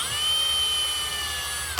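A hand-held power drill whirs steadily at high speed, close by, cleaning out a hole in a CZ 75 pistol for a front sight, with a brief clunk as it winds down at the end.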